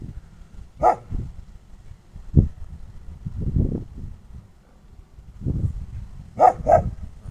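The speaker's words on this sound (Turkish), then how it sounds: "Köpekler." A dog barks a few times, sharp single barks spaced apart with a quick double bark near the end, amid quieter rustling and low sounds.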